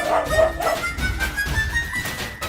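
In a TV comedy scene, a voice imitates a dog barking, with a few quick yapping barks near the start followed by softer whimpering sounds in an indoor setting.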